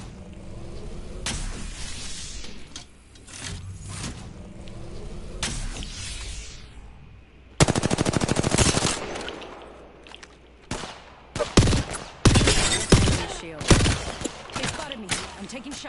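Gunfire in the Apex Legends video game rings out in scattered bursts of sharp, loud shots, with busier clusters in the second half, set among other game effects and sounds.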